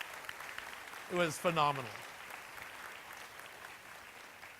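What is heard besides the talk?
audience applause at a plenary session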